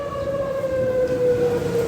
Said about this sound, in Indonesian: bunyi panjang sirene yang ditiupkan dari kantor Badan Penanggulangan Bencana Daerah Kota Bitung